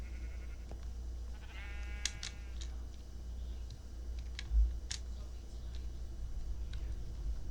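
Sheep in a video game give several short, sharp bleats scattered over a low steady hum, with light clicking in between.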